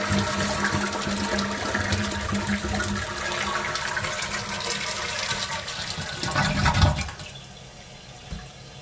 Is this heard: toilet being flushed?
yes